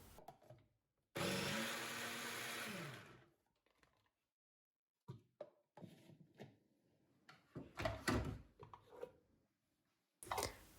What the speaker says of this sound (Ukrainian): а сьогодні спробую нарізати за допомогою блендера